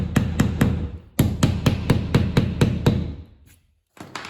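A hammer gently taps an electrical box into a wall, about a dozen sharp close knocks in an even rhythm with brief gaps and a short pause before the final blows.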